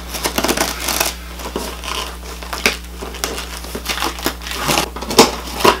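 Cardboard box of a softbox lighting kit being opened by hand, close crinkling, rustling and tearing of packaging in irregular bursts, with no talk.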